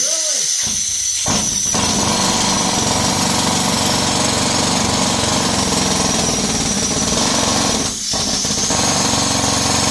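Loud, continuous rattling of a drill pounding into gold ore rock at a small-scale mine, nearly unbroken, with a brief dip before it resumes at full force.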